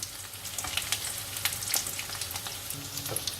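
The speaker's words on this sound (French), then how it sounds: "Vous les faites donc frire 30 secondes de chaque côté" Breaded courgette flowers fry in oil over medium heat, a soft, even sizzle with scattered crackles and small pops, fairly quiet and close.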